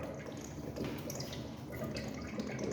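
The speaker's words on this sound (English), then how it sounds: "I still got a little water drippage." Water trickles and drips steadily in an echoey space from a Sloan flush valve during diaphragm replacement, a continuous wet splashing close by with no voices.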